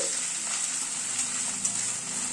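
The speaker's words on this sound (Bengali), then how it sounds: "আদা রসুনটা দিয়ে পেঁয়াজের সাথে একটু হালকা করে ভেজে নিচ্ছি" Garlic and ginger paste fries with onion in a pan, giving a continuous, even sizzle close by, with no talking.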